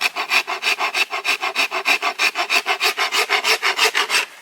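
Rasp shaping a bamboo recurve bow limb: loud, close, rhythmic push strokes, roughly five per second, each a bright woody scrape, continuing steadily and then stopping.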